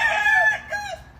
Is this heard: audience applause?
no